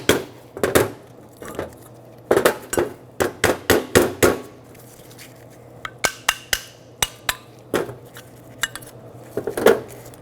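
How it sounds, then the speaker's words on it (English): A hammer taps stuck brake pads out of an old rear brake caliper from a 2006-2010 Hyundai Sonata. Sharp metallic knocks come in uneven bursts of several quick strikes separated by short pauses, close and clear. "These are somewhat stuck in here. Might need a hammer to tap them out."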